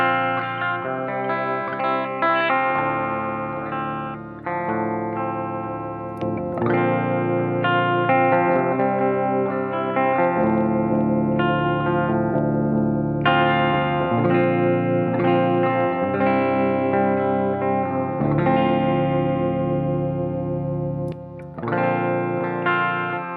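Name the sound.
clean electric guitar tone through Dark Triad preamp pedal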